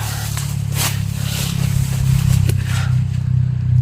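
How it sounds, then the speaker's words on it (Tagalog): A motorcycle passes along a road overhead, a steady low engine drone that swells slightly midway with a few faint scrapes and clatters, heard from below with no voices. "may marinig tayong dumadaan ng motor kasi may kasada dyan sa ibabaw"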